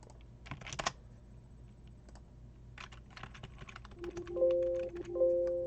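Keys clatter on a computer keyboard in quick irregular bursts, near and fairly quiet, with a steady electronic tone sounding near the end.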